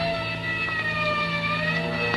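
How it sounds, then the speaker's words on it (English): A siren sounds in a 1940s radio drama as a continuous wavering tonal wail, steady and moderately loud, with no speech over it. "And somewhere in the distance I heard a siren"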